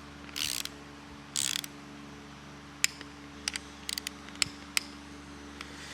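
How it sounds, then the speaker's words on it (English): Ratchet torque wrench tightening cam gear bolts to 20 foot-pounds during an engine rebuild, starting with two short bursts of ratcheting, then a series of sharp, separate clicks in the workshop, all without talk. "we'll torque these down to 20 foot-pounds"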